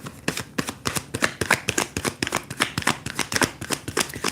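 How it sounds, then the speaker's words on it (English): Cards being shuffled close by in quick, repeated riffling bursts, a steady crisp rhythm of snaps with no voices. "I apologize if the shuffling's too loud."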